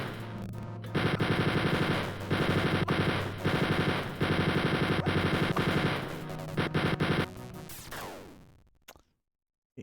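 Enemy machine-gun fire in Wolfenstein 3D, loud rapid bursts repeating in several long stretches, close and harsh, before cutting off into a brief fading tail and silence.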